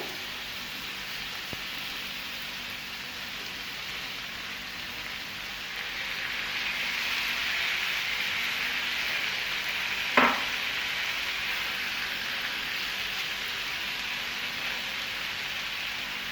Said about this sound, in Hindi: अब मैं इसमें ऐड करूंगी लेमन जूस, साथ ही इसमें जाएंगे ये कटे हुए टमाटर